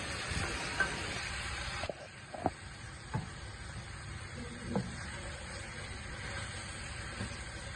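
Long-cut green chillies fry in hot oil in a kadhai, a steady broadband sizzle with a few sharp clinks of stirring, no voices over it.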